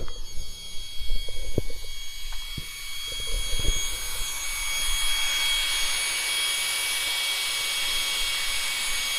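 A Traxxas Maxx RC car on 8S power makes a speed pass, a few sharp knocks and clicks at first, then a rising, loud electric whine that swells and holds steady as it runs.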